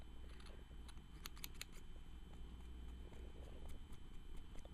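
Quiet scissors snipping the end off a length of seam binding, several crisp close cuts in a loose rhythm over faint room hum.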